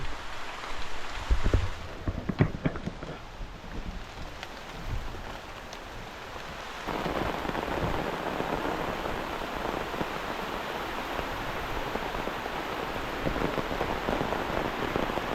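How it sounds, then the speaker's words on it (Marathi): Steady rain falls on a Konkan farm as a dense, hissing patter that grows heavier after a few seconds and keeps going without pause. "पाऊस बघा काही देतो"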